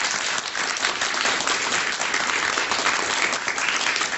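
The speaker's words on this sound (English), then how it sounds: "Let's give a big round of applause to the coaches for both teams" A studio audience at a quiz show gives the team coaches a dense, even round of applause that stays loud and unbroken from start to finish.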